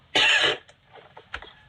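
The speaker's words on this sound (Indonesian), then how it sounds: "sampai batuk teman-teman" A single man coughs once, loud and close, a harsh burst indoors followed by a few faint throat noises and breaths.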